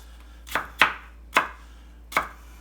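A kitchen knife chops through onions on a cutting board in four sharp, separate strikes, each one close and crisp. The strikes come at an uneven pace, with a quiet hum behind them.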